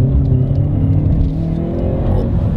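A 2018 Hyundai i30N with a 2-litre turbo engine accelerates hard on a hill climb, giving a loud, steady, close-up engine drone with rising revs and no talk over it.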